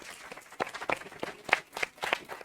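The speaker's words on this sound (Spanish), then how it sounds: "Y yo quiero que le despidamos con un fuerte aplauso" Scattered, faint hand claps from a small audience at a book talk and signing, a handful of separate, uneven claps rather than a full ovation.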